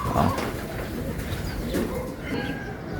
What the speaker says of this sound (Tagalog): Mga kaibon.